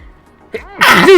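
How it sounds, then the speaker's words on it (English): A single loud human sneeze close to the microphone, a brief quiet intake building into a sharp explosive burst. "I'm gonna sneeze."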